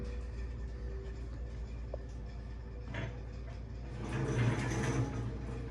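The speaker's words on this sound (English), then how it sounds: "It's on wheels, as you can see, it rolls back." An old scale on wheels rolled back across a shop floor, giving a low rumbling roll with faint clunks that grows slightly louder toward the end, quiet and close with no one speaking.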